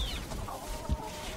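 Chickens cluck softly and briefly in an automated chicken farm in Valheim, a couple of short bird calls close by with no talk over them.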